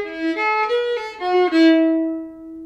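Old-time fiddle bowing the Groundhog melody alone, a short phrase of clear sustained bowed notes stepping up and down before settling on a long held tone, close and fairly loud.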